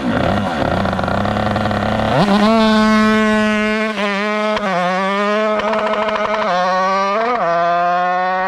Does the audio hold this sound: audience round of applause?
no